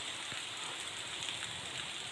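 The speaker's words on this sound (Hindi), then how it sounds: "अब हो गई ये बारिश स्टार्ट, बहुत तेज बारिश आ रही है।" Heavy rain pours down steadily, a dense, continuous hiss of drops striking surfaces, even and fairly faint, with no voices.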